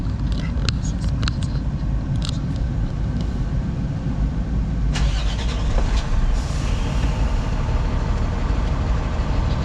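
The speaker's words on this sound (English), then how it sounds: "Start the truck." Truck engine starting and running at a steady, close, loud idle, checked as part of a pre-trip inspection; the drone holds throughout with a few clicks and clatters on top.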